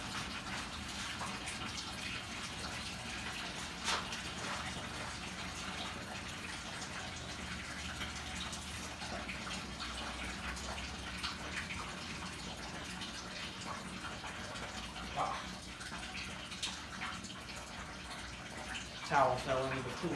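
Old coolant and water drain out of a VW Jetta MK4 with a steady, gushing wash of liquid that carries through the whole stretch, with a few small clanks near the end.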